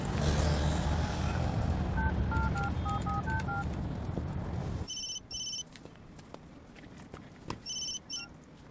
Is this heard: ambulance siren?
no